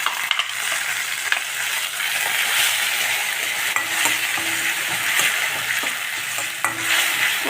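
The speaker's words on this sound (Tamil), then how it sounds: "கொஞ்சம் பச்சை வாசனை போக கொஞ்சம் நல்லா வதக்கி வச்சுக்கலாம்." A ground paste of coconut, cumin and green chili sautés in a pan, sizzling steadily while a spoon stirs and scrapes against the pan in repeated close strokes.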